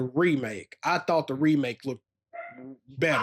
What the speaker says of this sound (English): Sorry about the dogs, people.